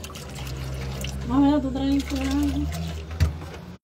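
Water pouring into a flower vase at a cemetery on Day of the Dead, a steady close splash and trickle running throughout, with someone speaking over it and a brief knock near the end.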